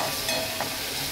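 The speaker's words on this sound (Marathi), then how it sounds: "आता हा लसूण आणि अद्रक पेस्ट मी फ्राय करून घेते" Garlic and ginger paste fries in a pan for a dhaba-style gavar bean dish, giving a steady, close hiss of sizzling oil with faint stirring, and nobody speaks.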